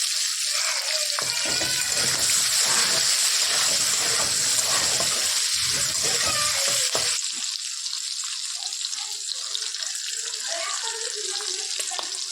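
Potato pieces and slit green chillies sizzle in oil with whole cumin for a bottle gourd and prawn dish, giving a steady, close crackling hiss that softens and thins after about seven seconds.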